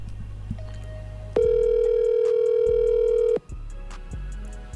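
A telephone line tone sounds after a hung-up call: a steady pitched electronic tone holds for about two seconds over low background hum, then cuts off abruptly, with no talk.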